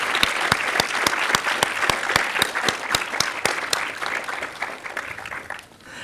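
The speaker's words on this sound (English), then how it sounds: "let's give a round of applause to all of those excellent people" An audience at a short-film screening and awards night gives a round of applause, with sharp, evenly spaced claps standing out over the crowd's steady clapping, fading toward the end.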